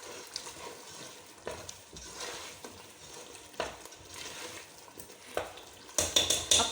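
A spiced mixture with black salt and crushed red chilli stirred and fried in a pan for halwa puri, a constant soft sizzle under scraping spoon strokes, ending with a few sharper metallic clinks.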